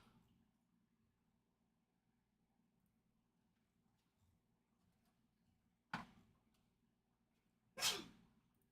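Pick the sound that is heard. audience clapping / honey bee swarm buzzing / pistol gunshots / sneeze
sneeze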